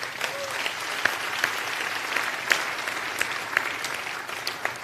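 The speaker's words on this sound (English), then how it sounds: "You want to clap?" Steady applause from a church congregation during a sermon on tithing, a dense continuous patter of clapping with a few sharper claps standing out, filling the room at moderate loudness.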